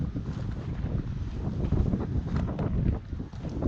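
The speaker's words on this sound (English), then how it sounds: "A little windy today." Wind buffets the microphone of a GoPro Hero 6 on a selfie stick and gimbal as someone walks outdoors at an average pace, producing a continuous, fluctuating low rumble with gusts.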